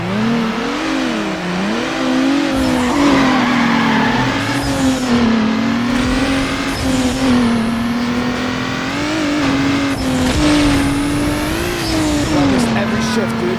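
Toyota Supra race cars roar through a Need for Speed Underground race, with engines revving up and dropping through gear shifts and occasional tire squeal, while a player talks over the game sound.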